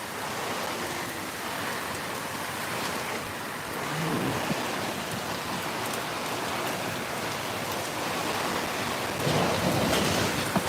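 Heavy rain pours steadily in Misamis Occidental, Philippines, a dense roar of hissing drops on surfaces, swelling louder toward the end with gusts of wind.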